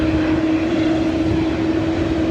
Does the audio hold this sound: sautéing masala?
no